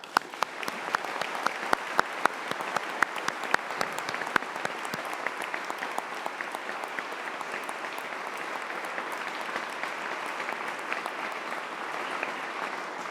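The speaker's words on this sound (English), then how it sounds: "put your hands together and give a huge round of applause for the graduates of the University of Greenwich" A graduation ceremony audience at the University of Greenwich claps for the graduates, a steady, fairly even round of applause with sharp individual claps near the start, moderately distant and continuing for the whole stretch.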